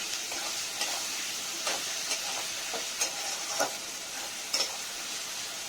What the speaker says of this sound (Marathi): चांगले मिक्स करून घ्यायच्या या गोष्टी आणि चांगल्या परतून घ्यायच्या